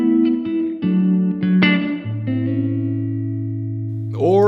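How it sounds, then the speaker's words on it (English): Guitar through a Blackstar AMPED 1 amp on a room reverb setting, several picked notes and chords followed by a held low note that rings out, with a brief squeaky slide or string noise at the end. "Room reverb."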